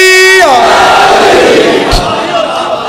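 A religious gathering answers a zakir's call with a loud massed chant of Naara-e-Haidari. The shout swells into a roaring crowd wash after a sustained voice ends, with a sharp thump partway through.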